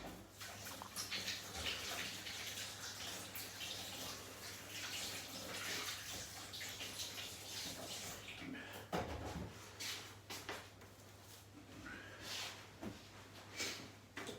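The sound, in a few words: washing hands under running tap water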